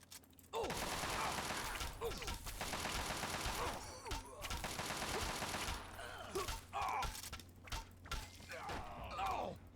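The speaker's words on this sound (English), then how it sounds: "Who's even shooting at me?" Gunfire aimed at the player in the video game Fallout 3: bursts of rapid shots with shattering and mechanical clatter, loud and close, coming in waves with brief lulls.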